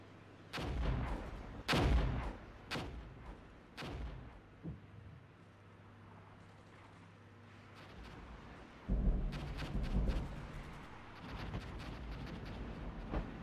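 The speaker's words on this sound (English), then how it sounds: "Artillery rounds landing." Artillery rounds land in Armored Brigade, a modern combat game: several heavy, booming impacts arrive irregularly, some loud and close, others duller, then a dense cluster of crackling blasts follows.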